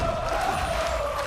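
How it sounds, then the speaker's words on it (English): An esports arena crowd at a 2015 League of Legends World Championship group-stage match between KT Rolster and Origen roars with a steady, loud, sustained wash of cheering. "You can hear that crowd really amped up for one of their favorite teams and their favorite players."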